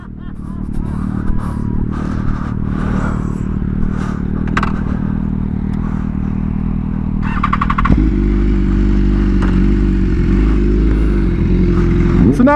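Two Kawasaki Ninja H2 supercharged motorcycles ridden on a closed course give a steady, loud engine drone throughout, and a deeper, heavier roar takes over midway as the bikes pull on, with no talk.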